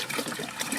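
Water sloshing and trickling as it is poured from one container into another inside a camper van, a brief, close, gurgling pour with no talking.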